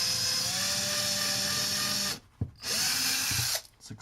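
A power drill with a screwdriver bit drives a screw into an electronic cat toy tower, whirring steadily and close for about two seconds, then stopping and giving a couple of brief follow-up bursts.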